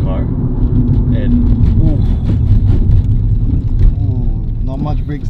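A front-wheel-drive car fitted with a limited-slip differential is driven hard on a B-road, its engine a loud, steady mid-range drone close by, with people talking over it throughout.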